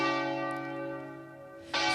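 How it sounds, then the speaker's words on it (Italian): Church bells peal at noon after a funeral in Italy, a steady ringing tone sustained throughout, then a louder fresh strike near the end. "Lina, stanno suonando le campane a mezzogiorno"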